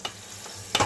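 Cleaned, fresh chicken sizzling in melted butter in a hot pan, with a steady fry and brief stirring scrapes at the start and end.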